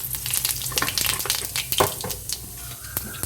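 Whole garam masala and white cumin hit hot oil in a kadai for papaya ghonto with mung dal, a close crackling sizzle full of sharp pops and spits over a steady frying hiss.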